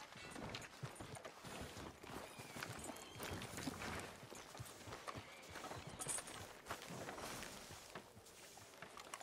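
Horse hooves in Red Dead Redemption 2 clip-clop in a steady, fairly quick rhythm alongside faint creaks and ambient rustle, with no talking.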